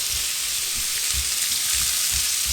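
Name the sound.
sliced red onions sizzling in oil in a pan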